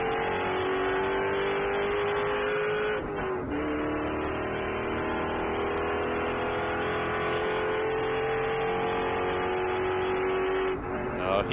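Spec Corvette race cars lap Sebring International Raceway, a loud, sustained engine roar that climbs and drops in pitch through gear changes, with a brief dip near the start and another toward the end.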